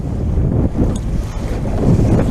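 Strong oncoming wind buffets a small motorboat heading into a head sea, with loud gusty rumbling wind noise and the low wash of waves against the hull.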